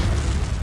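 A Confringo explosive spell cast in Hogwarts Legacy, a dense low booming burst with rumbling body sustained steadily through the brief moment, heavy and close with no voices.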